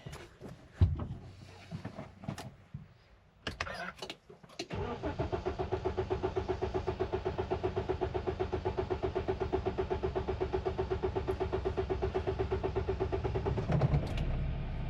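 A JAC T6 pickup with fuel system repair work underway is started. A few clicks and knocks come first, then the starter cranks the engine in a long, fast, even rhythmic chug that lasts about ten seconds without catching, close and fairly loud.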